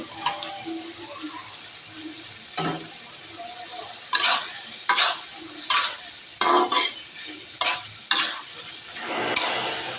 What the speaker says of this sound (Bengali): এবার আমরা চিংড়ি মাছগুলো দিয়ে দেবো